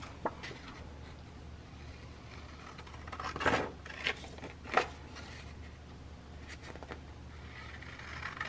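Scissors cut fabric to form a pocket in a quiet room, giving a few soft snipping and rustling strokes in short bursts with pauses between them, close and fairly faint.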